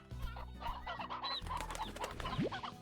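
A rooster in the Slime Rancher game clucks in quick, close, busy bursts over a low rumbling background, with one short rising squawk near the end.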